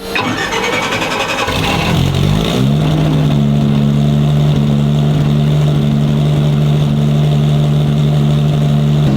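A 1700-horsepower 2JZ engine in a Dart-built Toyota Supra, running on ethanol, cranks and fires up, then settles into a loud, steady, droning idle that holds close and continuous to the end.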